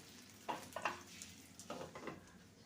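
Eggplant, tomato and green chili fry in a covered pan, giving a faint, steady sizzle broken by a few soft clinks and scrapes as the pieces are turned.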